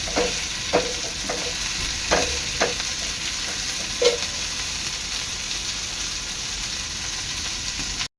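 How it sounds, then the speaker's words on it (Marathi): Rava-coated prawns fry over low heat in a pan with a steady broadband sizzle, punctuated by a few sharp clicks and scrapes of stirring early on; no voices. "आता आपल्या कोलब्या आहेत ना दोन्ही साईडनी चांगल्या खरपूस रंग येईपर्यंत शिजून घ्यायचं आहे स्लो गॅसवर"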